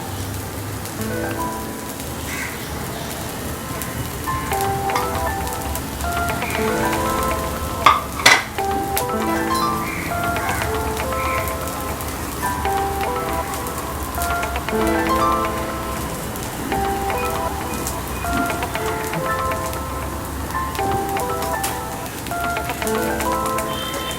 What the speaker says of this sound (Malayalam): ഇതിപ്പോൾ ഒരു 10 മിനിറ്റോളം വഴറ്റിയിട്ടുണ്ട്